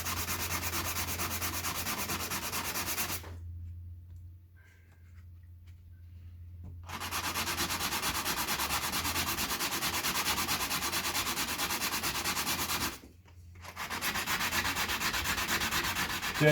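Abrasive scraping as a sanding pad works tool marks out of pounamu jade, a steady gritty rubbing that runs continuously, stops for a few seconds, resumes, and pauses once more briefly before continuing.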